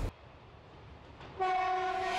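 A red German railbus (Ferkeltaxe) at a small, quiet station in an old pine forest sounds its horn, a steady multi-tone blast that starts after a short pause and holds loud to the end over a low rumble.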